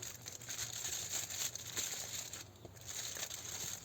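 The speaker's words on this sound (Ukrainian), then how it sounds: "Тепер беремо, обмотуємо так фольгу." Aluminium foil crinkles and rustles as it is wrapped around potatoes for a picnic grill, a quiet, continuous crumpling close by.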